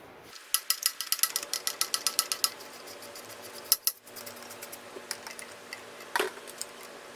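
A screw being backed out of the shift handle of a Johnson Evinrude 6 HP outboard: a quick run of close, sharp ratcheting clicks, a brief metallic clack, then a few scattered clicks against a quiet background.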